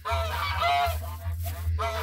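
Goose on a farm honking in loud, nasal repeated calls close by, several blasts in quick succession over a low steady hum.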